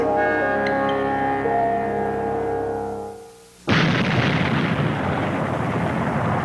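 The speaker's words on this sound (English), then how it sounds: "Krakatoa erupted with an explosion considerably larger than this one recorded in 1927" A recorded volcanic eruption explosion from 1927 hits as a sudden, loud roaring blast after a quieter tonal passage, then sustains as a dense, rumbling roar to the end.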